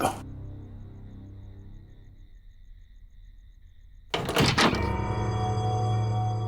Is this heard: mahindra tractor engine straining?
no